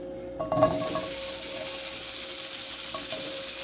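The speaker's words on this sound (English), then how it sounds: "you add your sausage. This is on medium-high heat." Sausage frying in a pan over medium-high heat, a steady close sizzle with a brief clatter as it goes in, then an even hiss that carries on alone with no talk.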